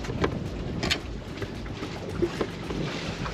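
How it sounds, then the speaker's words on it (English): Strong wind buffets the microphone while waves slap and wash at an Everglades campsite at night, a rough, gusty roar with a few sharper splashes and no talking. "Wind's really loud, waves are loud"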